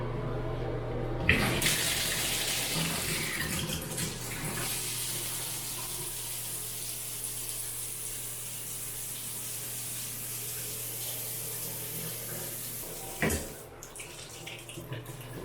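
Water runs steadily from a shower head in a hotel king room bathroom, a continuous close hiss lasting about twelve seconds, with a click as it turns on and another as it shuts off.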